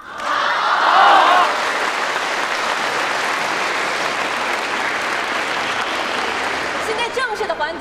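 An audience in a classroom-style gathering claps for a student called up front, a steady burst of applause that swells early, then holds evenly for several seconds before tapering into scattered claps.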